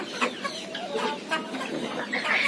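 Thai native chickens, a mix of village hens and guinea fowl, cluck and call in a steady, busy chorus in a farm pen, several birds close by with sharp squawks rising over the flock.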